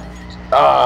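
A race car launching off the line in Need for Speed No Limits, the game engine suddenly roaring up loud and close after a brief quiet idle, holding a strained high rev to the end.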